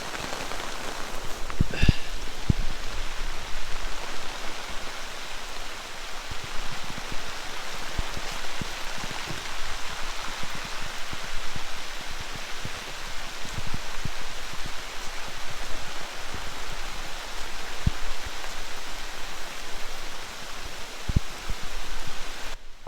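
Rain falls steadily at a campsite, a dense continuous patter with scattered louder drops and taps close by, with no voices.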